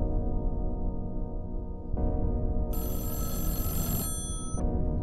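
Telephone ringing in a horror video game, a loud ring tone that keeps on alone and brightens midway before cutting off near the end.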